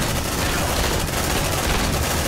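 Constant close gunfire in Aliens: Dark Descent, a dense automatic barrage that fills the whole clip with steady rattling and no break.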